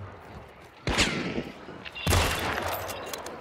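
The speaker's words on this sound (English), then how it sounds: "Just shooting shots to like frighten them" Two loud, close gunshots in the Hunt: Showdown video game, about a second apart, each with a sharp crack and a long echoing decay.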